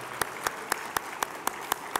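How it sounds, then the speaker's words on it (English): Claps at an annual awards dinner ring out in a steady, evenly spaced rhythm, about eight sharp slaps in two seconds over a low room hum. "Let's have a round of applause for Catherine Rafelson"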